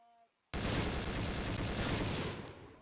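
A sustained burst of automatic rifle fire erupts at range targets in the video game Conflict: Desert Storm, loud and dense after a brief quiet lead-in, rattling continuously for over two seconds before tapering slightly.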